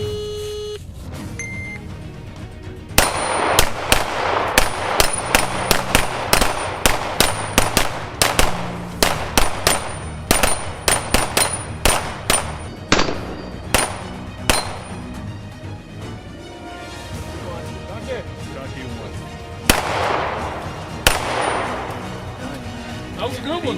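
Gunfire during a shooting course of fire on a range, with rapid sharp reports in quick bursts, some near and loud, separated by brief pauses and echoing off the surroundings.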